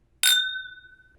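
Whiskey glasses meet in a toast with a single clear, bright clink whose ringing tone lingers and slowly fades, close and alone in a quiet room.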